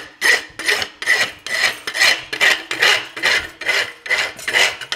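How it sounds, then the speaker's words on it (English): A farrier works a rasp back and forth along the back of a horseshoe, a loud, close, rhythmic scraping of roughly ten even strokes with no talking. "Rasp up the back of the shoe."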